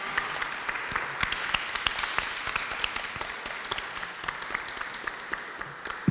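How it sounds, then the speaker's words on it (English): An audience at a European cultural heritage partnership event applauds, a steady, moderately soft patter of many hands clapping together that continues evenly throughout. "a very big applause, please, for Daniela for her excellent job guiding us through today"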